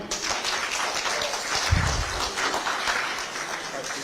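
An audience applauding at a formal document handover to a Prime Minister in Kenya, a dense, steady clapping that carries through the whole stretch.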